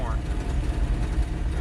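A woodgas-fueled truck running without gasoline, its engine set very rich, rumbles low and rises as it is revved. Someone talks over the engine throughout.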